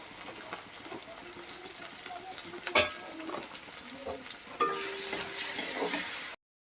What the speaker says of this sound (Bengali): টমেটোটাকে ভালোভাবে কষিয়ে নেবো তার জন্য সামান্য আমি লবণ দিয়ে দিচ্ছি